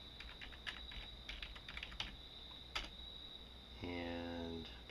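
Someone types a login name on a computer keyboard while logging into a Raspberry Pi: quiet, close, irregular key clicks, followed by a short steady tonal hum near the end.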